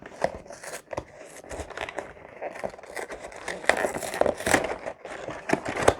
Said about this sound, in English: let's open up the box and see what we actually get